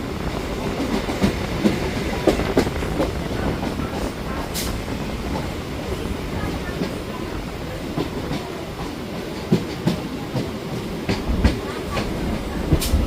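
A local train on the Bongaon–Ranaghat line runs between North 24 Parganas and Nadia with a steady, loud rumble from inside the coach, marked by irregular wheel clacks and knocks on the track.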